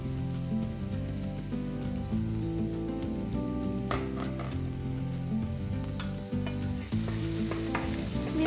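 Garlic and ginger sautéing in olive oil in a pan give a steady, dense sizzle, with occasional stirring scrapes and crackles throughout and no talk.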